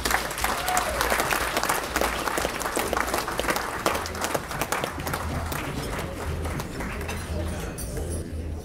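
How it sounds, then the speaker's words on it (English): Loud, sustained applause from a banquet crowd honoring Mr. Marcus Fisher, dense clapping that holds strong for most of the stretch before thinning slightly toward the end. "Please give Mr. Fisher another round of applause."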